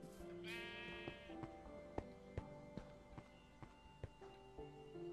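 Sheep bleat in the Minecraft video game, a clear bleat near the start followed by a run of regular soft footstep-like thuds, fairly quiet overall.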